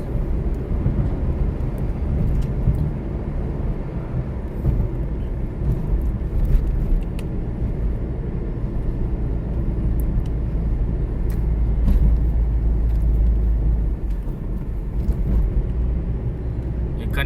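A vehicle engine labours slowly up a ghat road on the Chittoor highway, a steady, loud, low drone that holds throughout with slight swells and faint traffic noise around it.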